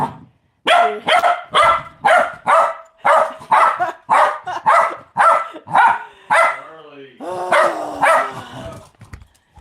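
A puppy barks over and over in a steady run of sharp, loud yaps close by, then slides into a few whiny, higher yelps near the end.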